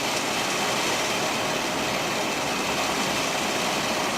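A motorized test rig spinning a Duralcan brake drum gives off a loud, steady broadband whir and hum, constant and unbroken throughout with no talking.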